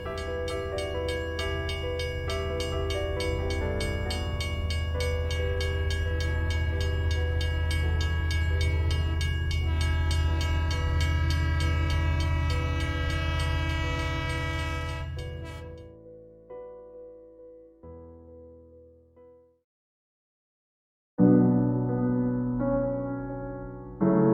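A loud train horn blares continuously for about fifteen seconds over rumbling rail noise, then fades into quieter clatter, drops out, and returns briefly.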